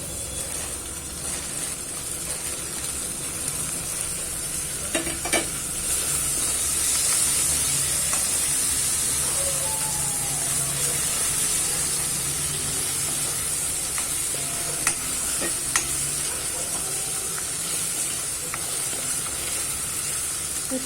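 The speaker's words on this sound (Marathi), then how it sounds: "छान आपल्याला परतून घ्यायचं आहे।" Onion and tomato sautéing in a pan for Maharashtrian dal dhokli: a steady, even sizzle and frying hiss runs throughout, with occasional light stirring clicks and scrapes, close and alone with no talk.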